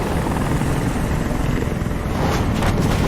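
A helicopter in Detroit: Become Human gives off a loud, steady rotor and engine roar that holds without a break, with no voices over it.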